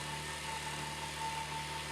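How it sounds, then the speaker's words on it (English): Small pup engine running in the Farming Simulator video game, a steady, low idling drone with a constant hum, heard alone and without variation for about two seconds. "Sounds good here with the pup engine."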